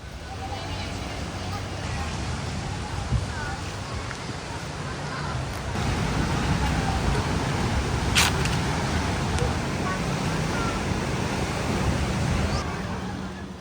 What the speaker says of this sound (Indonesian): Jadi biar ombaknya tidak terlalu besar ya, langsung menghantam pantai ini.